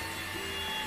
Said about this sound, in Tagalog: this is a rechargeable vacuum cleaner, and this mini vacuum cleaner has two power options